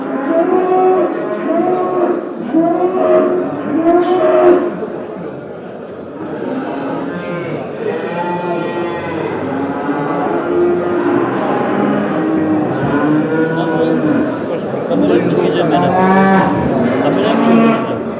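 Cattle at a live animal market in Çubuk, Ankara, including cows in calf and barren cows, moo repeatedly and loudly over a dense, continuous crowd of lowing animals, with several overlapping calls near and far throughout.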